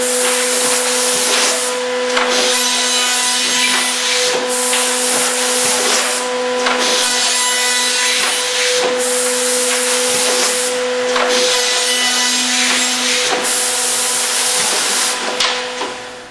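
A Pillar Machine CXT CNC router climb-cutting through material, a steady loud whine with sustained tonal hum and broadband cutting noise that pulses slightly every couple of seconds as the toolpath moves, with no talk.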